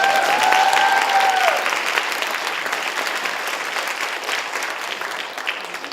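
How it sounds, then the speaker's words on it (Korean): An audience applauding in a church during a testimony service, a dense clatter of many hands clapping, loud and close and slowly tapering, with a brief whistle-like tone at the start. "박수."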